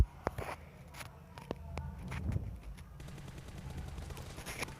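An M416 rifle fires in a PUBG-style video game. Scattered single shots and short bursts crack out, fairly faint, over a low game background.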